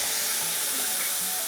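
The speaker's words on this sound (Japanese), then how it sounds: "でこの状態になったらお酒入れます。" Sake poured into a hot pan of shimeji mushrooms, a loud broad steaming sizzle and hiss that holds steady and close throughout.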